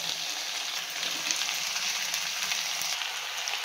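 Long-cut eggplant pieces fry and are stirred in a non-stick pan, giving a steady, close sizzle that holds throughout with no talking.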